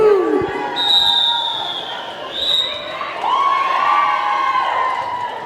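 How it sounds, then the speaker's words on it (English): An indoor basketball audience at a Norfolk versus Oslo game cheers and whoops loudly in a continuous swell, with high shouts and whistles riding over the crowd noise. "But can we have some cheering for both teams, maybe?"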